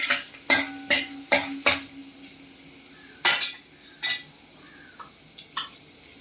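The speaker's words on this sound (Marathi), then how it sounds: "अगदी छान हलवून घ्यायचे" A spoon stirs garlic cloves, cumin and asafoetida in hot oil for a tempering. A quick run of close metallic scrapes and knocks against the pan is followed by sparser strokes over a faint sizzle.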